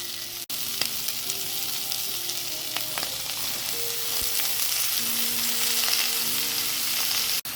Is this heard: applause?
no